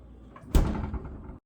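A kitchen drawer is pushed shut with one sharp, close thud followed by a short rattle as it settles, then fades to quiet.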